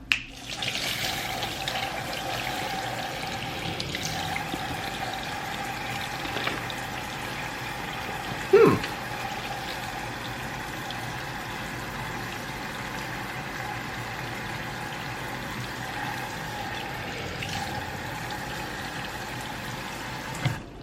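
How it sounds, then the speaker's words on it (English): Liquid is poured onto a waterproof Nike x Tom Sachs Mars Yard overshoe, a steady running splash and trickle lasting throughout, with a brief louder spatter partway through. "if you just poured random liquids on it, you would see the liquid droplets"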